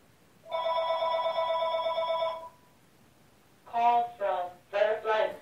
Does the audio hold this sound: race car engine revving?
no